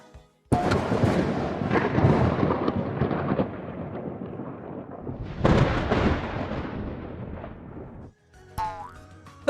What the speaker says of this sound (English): Now we'll hear thunder.